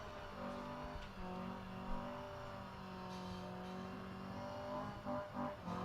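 Ben Kelly's Nissan Primera race car doing a smoky burnout at a motorsport event, its engine holding a steady, droning high-rev tone, heard faint and at a distance.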